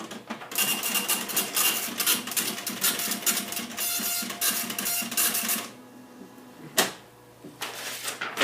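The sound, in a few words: impact receipt printer printing on POS system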